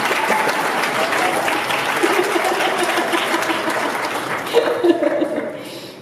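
Sustained applause from a crowd fills the clip, steady and dense, with a few voices and chuckles mixed in before it thins out at the end.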